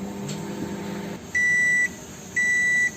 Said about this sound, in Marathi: एंडचा बजर झालेला आहे.